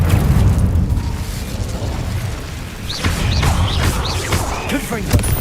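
A fire spell is cast in a Hogwarts video game inside a cave, a dense rumbling burst of game effects with sharp crackling flares in the second half, over continuous low background rumble.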